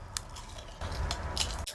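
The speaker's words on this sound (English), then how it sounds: "ASMR chip crunch while he remembers what he said" A potato chip crunched slowly and methodically for ASMR, with a few crisp, close bites and crackles over about two seconds and no talking.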